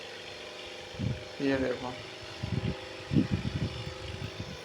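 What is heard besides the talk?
Swaraj tractor engine running, video game Indian Vehicles Simulator 3D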